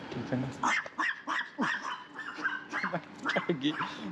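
A small dog in an Australian outback town yaps in quick, choppy bursts close by, mixed with a person speaking throughout.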